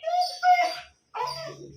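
A dog whines and whimpers close by in two high, strained bursts separated by a short silence, with a low murmur under the second burst.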